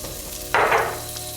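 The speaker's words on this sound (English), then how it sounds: "Let that saute for a moment." Garlic hits melted butter in a pan for sunchoke soup, bursting into a sudden loud sizzle that quickly eases to a softer, steady crackle, close and with no voices.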